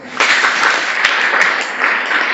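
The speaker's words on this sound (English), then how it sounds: "Can you clap for yourself?" A school audience in a motivational talk at Ikombe High School claps together, a dense steady wash of applause starting abruptly and holding loud and close for over two seconds, with no voices over it.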